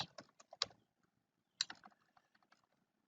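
Someone types an email address on a computer keyboard, producing crisp, close key clicks in two quick bursts separated by a short pause, with no talk.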